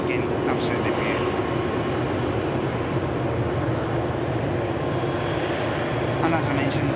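Airbus A380 in new livery taxiing briskly at Manchester Airport, a steady broadband jet engine roar with a low rumble holding at close range for the whole stretch.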